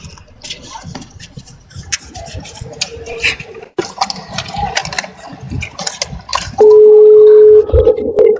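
An unanswered telephone call gives one long, steady ringback tone near the end, after a stretch of quieter rustling background noise.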